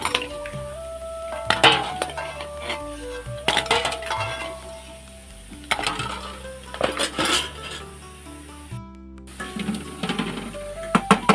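Boiled eggs are lifted out of a pot, with repeated ringing metallic clinks and knocks of utensils against cookware, scattered irregularly and close up with no talking.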